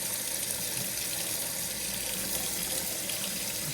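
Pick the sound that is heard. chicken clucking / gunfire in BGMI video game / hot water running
hot water running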